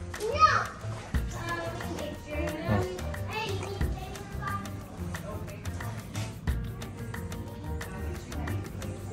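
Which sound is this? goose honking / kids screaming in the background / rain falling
kids screaming in the background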